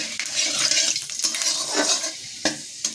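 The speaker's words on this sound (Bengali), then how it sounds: "5 ফোড়ন দিয়ে দেবো, 5 ফোড়নটা ভাজা ভাজা হবে" Panch phoron five-spice frying in hot oil with fish in a pan, a steady close sizzle with spoon scraping and stirring clatter throughout, no talk.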